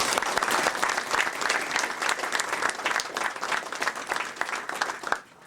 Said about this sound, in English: I think we ought to all give Fred Imler Sr. a big round of applause.